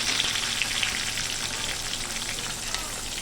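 Onions hit a pan of fried garlic for chilli soya chunks, producing a steady, fairly loud crackling sizzle that continues evenly without a break.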